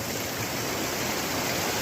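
The Bear River in California rushing along in the outdoors, a loud, steady broadband wash of flowing water with no pauses and no voices.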